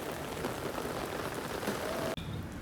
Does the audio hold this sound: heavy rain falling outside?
yes